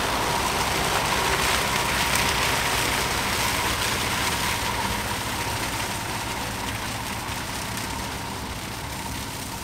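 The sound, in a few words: tractor mowing and mulching hogweed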